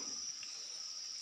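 Crickets in a cricket farm breeding box in Purworejo chirp as a steady, continuous high-pitched trill, dense and fairly loud, with no pauses and only a faint low rumble beneath.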